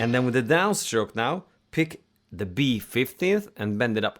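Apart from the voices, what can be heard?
No distinct noise like a dog, phone or traffic.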